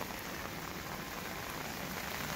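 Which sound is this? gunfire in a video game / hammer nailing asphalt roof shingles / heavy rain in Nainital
heavy rain in Nainital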